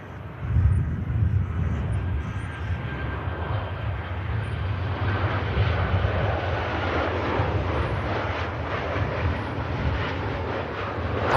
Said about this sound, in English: glancing touchdown from a Ryanair